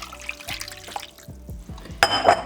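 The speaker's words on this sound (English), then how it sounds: "I'm gonna be pouring the water in first." Hot water, heated in a microwave, is poured into a pan set on a tray, giving a splashing, trickling pour with brief drips and a louder gush near the end.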